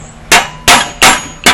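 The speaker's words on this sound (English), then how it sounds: "I started tapping on it, and the bearing started coming out" A hammer taps a spindle bearing out of a 2003 Murray Craftsman riding mower: four sharp, ringing metallic clangs at a steady rhythm, loud and close, with no voices.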